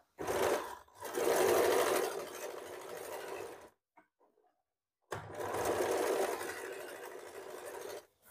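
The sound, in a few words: sewing machine stitching fabric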